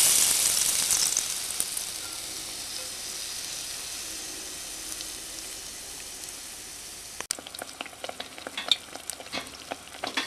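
Mushroom tempura frying in a pan of hot oil, a continuous bright sizzle with hiss, followed late by a burst of crackling, popping and stirring clatter close by.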